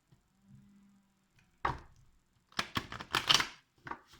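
Lenormand oracle cards are shuffled in a quiet room, heard as soft faint rustles followed by a quick series of crisp, close card slaps and riffles.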